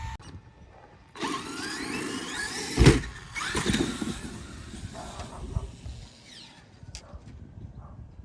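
A Traxxas X-Maxx RC truck running on Socokin 4S LiPo batteries drives toward a plywood ramp, its motor whining and rising in pitch over steady wheel hiss, with a loud thump near the middle and quieter runs afterward.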